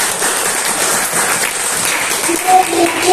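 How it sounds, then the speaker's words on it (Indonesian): A classroom of Grade X high-school students applauds together at the close of a lesson, a steady broadband patter of clapping filling the room. "Kita berikan tepuk tangan untuk kita semua."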